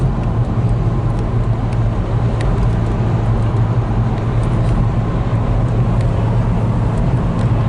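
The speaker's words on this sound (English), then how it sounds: "Look at the size of that lorry." A large lorry rumbles past on a rural road, a loud, steady low-pitched engine drone and tyre roar filling the whole stretch without a break, close to the listener.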